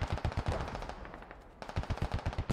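Machine guns fire in the Squad video game as rapid, loud bursts of automatic shots, two close bursts split by a short lull with distant gunfire.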